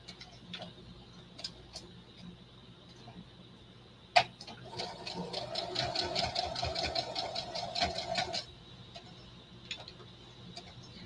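A sewing machine stitching together a patchwork tote bag runs in a steady rapid whir for several seconds midway, preceded by a sharp click, with faint ticking and room noise before and after.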